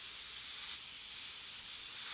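Airbrush spraying paint for a photorealistic sunset: a steady, loud, even hiss of air and paint running continuously and alone without any pause.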